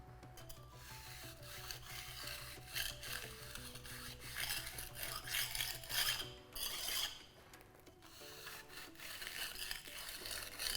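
A pointing trowel rubs and scrapes along a mortar joint to tool the finish, a steady rasping, dragging sound up close with repeated strokes and no talking.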